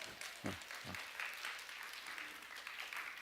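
A small audience applauds a family's international barista certification, a dense, steady wash of clapping held for about three seconds, with a brief voice at the start.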